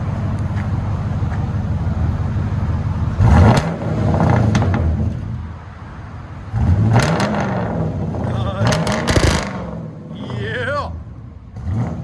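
A 1994 Mercury Grand Marquis with a 4.6L V8 and true dual exhaust fitted with Vibrant resonators revs up in three loud bursts, each climbing and falling, over a steady idle rumble, with people talking nearby.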